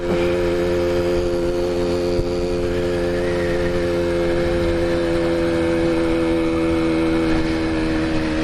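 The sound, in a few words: old two-stroke motorbike riding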